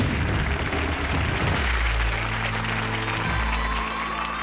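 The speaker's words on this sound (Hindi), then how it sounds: "प्लीज जोरदार तालियां सबके लिए" Vigorous crowd applause at a Bhojpuri film awards show in Malaysia, a dense continuous clapping that carries on as deep stage music swells in beneath it.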